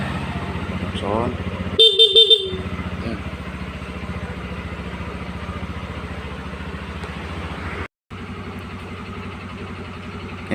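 Horn of a Yamaha Xeon motorcycle, a short loud toot of roughly half a second standing out above a steady engine or electrical hum, followed by a brief dropout in the background noise.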